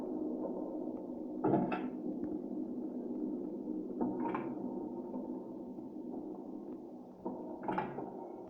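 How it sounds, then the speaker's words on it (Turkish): Creaking doors opening in the horror video game Evil Nun, three drawn-out wooden groans spaced a few seconds apart over a steady low ambient drone. "Aç şu kapıyı."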